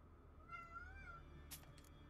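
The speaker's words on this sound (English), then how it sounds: "Shut up, cats." A cat meows in the Witcher 3: Wild Hunt game, one drawn-out, wavering meow followed by short faint chirps, soft and somewhat distant with no talk over it.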